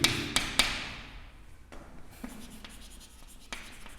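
Marker or chalk scratching across a classroom board while the GST amount is written, a few sharp taps at the start followed by steady scraping strokes, close and fairly quiet with no talk.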